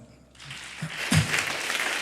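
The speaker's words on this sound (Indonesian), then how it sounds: "Tepuk tangan." Applause rises from a congregation during a Sunday morning church worship service, a broad wash of clapping that swells after a quiet start and holds steady with a louder burst partway through.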